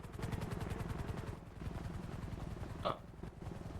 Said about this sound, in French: Mon putain d'hélico!